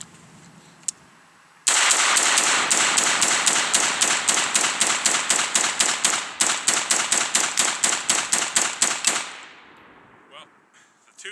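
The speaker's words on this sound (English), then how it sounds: "fire them relatively rapid fire downrange" An AR-15 with a BCM KMR handguard fires about thirty rounds in a fast, steady string of loud, close cracks, fired downrange on an outdoor range after a short pause, then stops abruptly into quiet.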